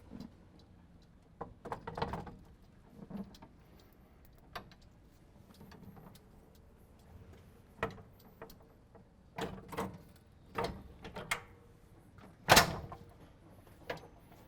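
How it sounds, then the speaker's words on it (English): Windscreen being fitted onto a Ventrac SSV utility vehicle, scattered plastic and metal knocks, clicks and rattles at irregular intervals, close by and moderately loud with quiet gaps between, no talking. "I'm going to grab the windscreen for the SSV and install it."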